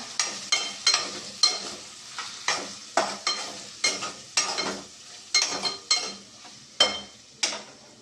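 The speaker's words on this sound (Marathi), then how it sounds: "चला मग आता शाबुदाण्याची खिचडी मला करून घ्यायची" A spoon stirs sabudana khichdi in a hot pan with about fifteen regular scraping strokes over a soft sizzle. The sound is close and clear with no talking.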